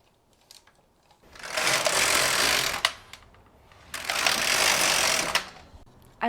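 A knitting machine carriage is pushed across the needle bed for a row, giving two sustained whirring, rattling passes of about a second and a half each, separated by a short quiet gap, close and fairly loud.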